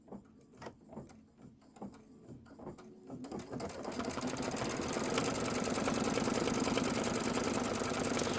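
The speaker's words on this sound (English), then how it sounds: "so we're just going to go ahead and stitch" An embroidery sewing machine stitches a foundation tack-down line, starting with a few quiet separate clicks and then settling into a loud, steady, fast run of needle stitching.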